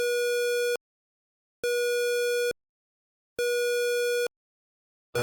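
Brainwashing machine effect in the ZZT game: a steady, buzzy electronic tone that pulses on and off three times in an even rhythm, with silent gaps in between.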